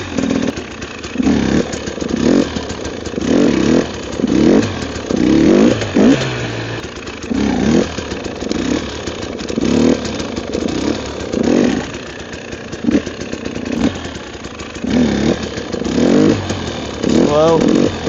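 Motorcycle engine on studded tires in snow, blipping and revving in short repeated bursts with clutch slipping during slow wheelie practice, fairly loud and close, with someone talking over it.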